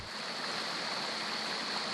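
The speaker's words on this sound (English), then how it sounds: "The river was still raging this morning." The flooded Macquarie River at Bathurst rushing after peaking around four metres, a loud continuous roar of turbulent water with a steady broadband hiss and no talk.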